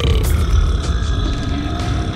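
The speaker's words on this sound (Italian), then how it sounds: "Ups, devo ruttare." A cartoon character lets out a loud, drawn-out burp up close, a rough guttural rumble that fills about two seconds without any other talk.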